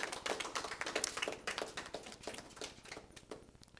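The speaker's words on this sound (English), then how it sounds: "Let's give them a round of applause." Brief burst of dense, uneven clapping from a small audience at a press conference, crisp overlapping claps close by that thin out and fade over a few seconds.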